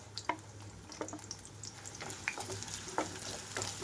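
Sliced onions frying in hot oil over a high flame, a steady close sizzle with crackling pops and occasional stirring scrapes and taps.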